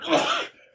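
A single sneeze, close and fairly loud, a short burst that trails off quickly.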